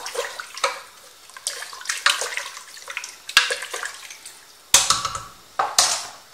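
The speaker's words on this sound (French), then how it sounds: "Je rajoute un petit peu plus d'eau." Water pours into a cooking pot (marmite) while a green bean and potato tajine is prepared, arriving in several short uneven splashing bursts, with two louder, sharper gushes near the end, close by and without talk.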